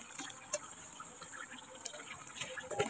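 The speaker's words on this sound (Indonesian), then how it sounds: "kita masukkan itu airnya" Water is poured into a cooking pot while beef koyor is being prepared for gudeg. It comes as a steady, faint rushing gush with a few small splashes and clinks, and there are no voices.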